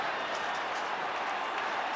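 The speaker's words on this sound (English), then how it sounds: "Oh, did it bring the crowd to its feet." Stadium crowd roars at a long-range Aussie Rules football goal by South Australia against Victoria in 1992, with broad, steady cheering and applause filling the space, the noise dense and sustained throughout.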